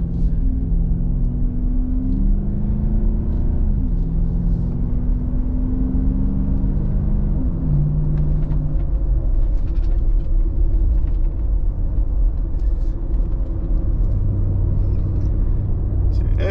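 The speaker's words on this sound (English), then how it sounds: "As you can hear, more tire noise than exhaust noise." Inside the cab of a Nissan Patrol Y62 V8 with a cat-delete exhaust, a constant low tire roar dominates during normal acceleration from 0 to 80, with a subdued engine tone rising and stepping through gears underneath.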